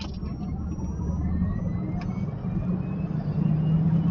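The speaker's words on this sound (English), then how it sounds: "We're going to try a Plaid launch" Tesla Model S Plaid launching hard from a standstill, a steady low electric-drive rumble with road and wind noise building and holding for about four seconds, heard from inside the cabin.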